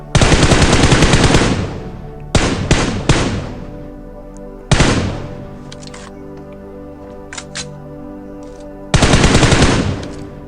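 Rifle fire from M4 and M762 guns in a battle-royale shooter on a military base: loud sustained automatic bursts, then a few shorter volleys separated by quieter gaps with faint clicks.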